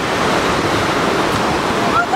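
Sea water surges against a curved, stepped sea wall at Burnham-on-Sea, Somerset, a loud, steady roar of churning surf mixed with wind buffeting the microphone.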